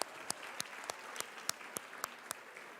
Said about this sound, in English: I think that Lee Marshall deserves another round of applause